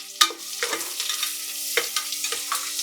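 Small Indian shallots, about 150 grams, sautéing in a pan for mutton kulambu, with soft steady sizzling and a few clear spoon-stirring scrapes close by, no talk.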